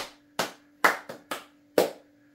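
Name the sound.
audience clapping for a speaker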